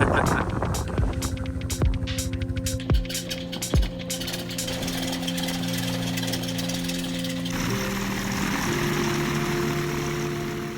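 Droning propeller and engine of a 73-year-old Piper Pacer in flight, a steady throbbing hum with sharp clicking transients early on, then a shift in tone partway through, continuous and close from inside the cabin.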